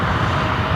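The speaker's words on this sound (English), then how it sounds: "United Airlines Flight 2234 is 737-900ER. Heading up here for a north side takeoff as well." A United Airlines Boeing 737-900ER roars on its north side takeoff roll at LAX, a loud, steady broadband jet rumble heard briefly and without voices.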